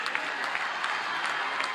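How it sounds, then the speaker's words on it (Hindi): Audience at an Indian government ceremony honouring Olympic hockey players breaks into loud, dense applause of many hands clapping together, sustained through the whole moment. "जोरदार तालियां"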